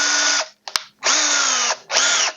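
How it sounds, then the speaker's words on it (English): A power drill fitted with a 5/16 inch bit bores into a wooden bowl blank in three loud whirring bursts, with brief pauses and a click between them. "for this wormwood screw, a 5/16 inch drill bit"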